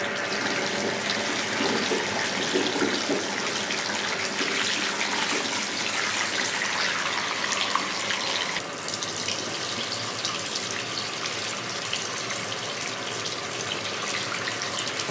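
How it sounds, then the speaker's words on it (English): Tap water runs steadily and close by, rinsing perm lotion out of hair. A continuous broad hiss and splash goes on without a break, briefly shifting in tone partway through as the flow hits the hair differently. "gonna rinse it out"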